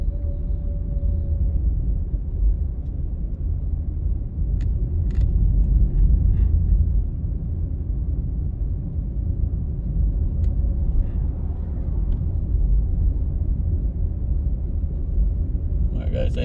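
A car drives along Paddington Terrace, a residential street, heard as a steady, close, low engine and road rumble that continues evenly throughout with no breaks.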